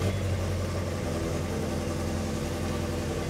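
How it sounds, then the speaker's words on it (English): A Ford Shelby GT350 sports car engine idling close by, a steady deep rumble with an even, continuous vibration throughout. "The Shelby's on, it's idling."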